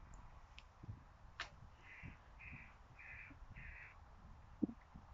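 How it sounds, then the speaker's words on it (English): Crows call repeatedly outdoors: several short, moderately faint caws spaced about half a second apart, set over a low rumbling background with light handling noises. "Can hear the birds as you're painting."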